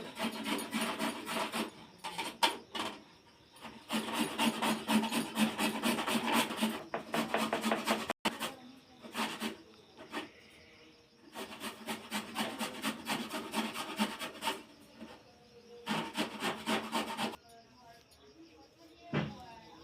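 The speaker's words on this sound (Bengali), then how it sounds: "গ্রেট করে নিয়েছি" Carrots are grated by hand in steady rasping strokes, long scraping bursts separated by short pauses, close and fairly loud, with a voice speaking quietly at times.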